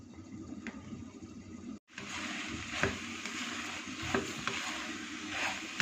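Potato, boiled peas and spaghetti filling stirred in a pan over medium heat: steady scraping and soft sizzling throughout, briefly cut off near the start, with no voices.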